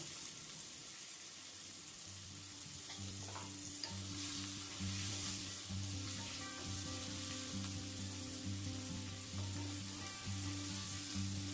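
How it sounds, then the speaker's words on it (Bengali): Chopped onion frying in a kadai for a dry cabbage curry, a soft continuous sizzle beneath a steady droning hum, faint and even throughout. "এবার কড়াইয়ের মধ্যে কুচিয়ে রাখা পেঁয়াজটা নিয়ে নিচ্ছি"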